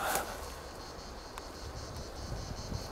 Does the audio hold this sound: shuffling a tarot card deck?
no